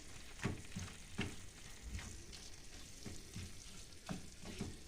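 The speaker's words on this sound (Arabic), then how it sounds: "انا كنحل وانا كنحرك" A mixture being stirred and dissolved in a hot pan while making a Moroccan alfalfa bqoula dish, with soft sizzling and a few scraping spoon strokes, fairly quiet and close.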